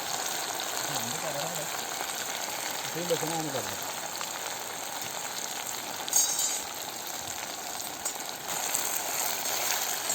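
Chicken feet frying in coconut oil give off a continuous, moderately loud sizzling hiss, with a few brief voice sounds early on and a short clatter near the end.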